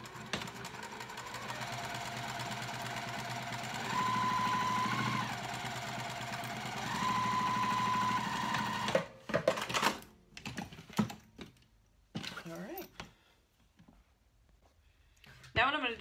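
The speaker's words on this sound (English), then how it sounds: "I'm gonna sew the lining at 5/8 seam allowance just to help it lay nicer inside the bag" A sewing machine stitches the lining of a cork dopp kit at a 5/8 seam allowance, its motor whirring steadily for about nine seconds before breaking into short, uneven bursts and pauses.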